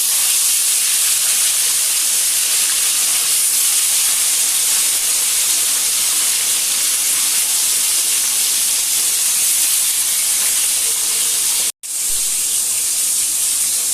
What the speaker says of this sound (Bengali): তেল গরম হয়ে গেছে, আমি মাছটা ছেড়ে দেব।